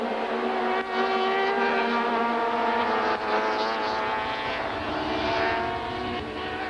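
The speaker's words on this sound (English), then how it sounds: "More racecam action from the Van der Linde BMW at more than 200 kilometers an hour" A BMW super touring race car at over 200 km/h at Kyalami, its engine screaming at a steady high pitch from onboard, with brief gear changes and sustained roar throughout.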